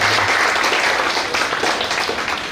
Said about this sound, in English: Let's give Dr. Kirti a big round of applause.